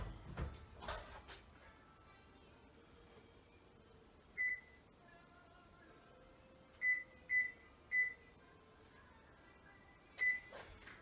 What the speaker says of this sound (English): we're gonna turn the oven on, preheated to actually 325